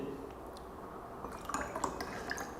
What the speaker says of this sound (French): je vais prendre l'eau Kangen que je vais verser dans les différents liquides